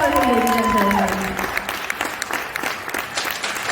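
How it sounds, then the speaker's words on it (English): Crowd at a community fundraiser applauding a former Rhode Island state representative, steady clapping that fades slightly after the first second and continues with scattered claps and a faint tone early on. "Big round of applause for him, ladies and gentlemen."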